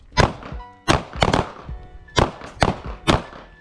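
Pistol shots ring out at a shooting range: about six sharp, loud reports in quick, uneven succession.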